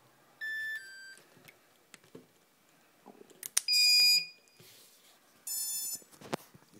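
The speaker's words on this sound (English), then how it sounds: "You hear the Simon K beep." SimonK-flashed ESCs on an Armattan 359 quadcopter give off a series of high, clean electronic beep tones in short bursts with gaps between them, heard indoors with faint handling clicks and no talk.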